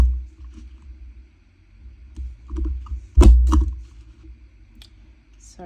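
A border punch presses through a paper strip for a page edge protector, giving a few sharp clicks and one heavier thump-crunch in a quiet room amid low handling noise.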